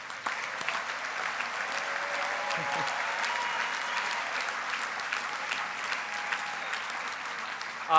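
Steady applause from a political party conference audience in a large hall, sustained evenly across the whole stretch with a faint voice near the end.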